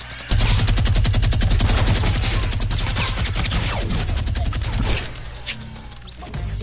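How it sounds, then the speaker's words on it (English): A minigun in a video game roars in one sustained, rapid burst of automatic fire for about five seconds. It stays loud and dense, then cuts off into quieter game noise. "I done got a minigun now"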